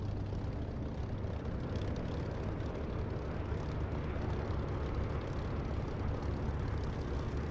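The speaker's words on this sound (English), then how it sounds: "He's taken off in a P-47." A P-47 fighter plane in a flight simulator game drones past as a steady, continuous engine roar with no voices, holding even loudness throughout.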